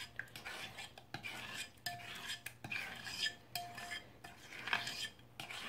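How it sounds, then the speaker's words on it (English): A spoon stirring a mixture to dissolve brown sugar for muffin batter, soft scraping and clinking against a bowl in irregular strokes, fairly quiet and close, with no voices. "I want to kind of mix that in together just to dissolve the brown sugar"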